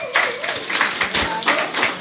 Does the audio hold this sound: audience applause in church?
yes